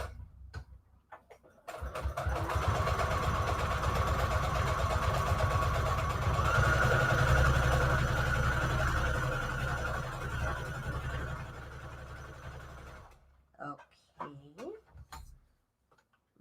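A sewing machine runs steadily, stitching through a soft fabric junk journal with a continuous mechanical whir and rapid ticking for about eleven seconds, then stops; a few soft handling sounds follow.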